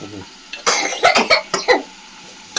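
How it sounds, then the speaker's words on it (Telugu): A child coughs close by in a quick series of about five or six loud, harsh bursts, with short pauses between them. "దగ్గు ఏం దగ్గుతుంది"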